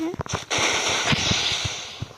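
A sharp video game explosion bursts out amid a rapid series of pops and crackles, with voices talking briefly at the start.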